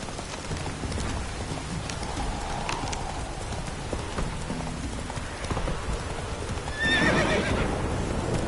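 Roach, the horse from The Witcher 3, gives a whinny late on over steady clip-clopping hooves, with a soft rain-like wash running underneath throughout.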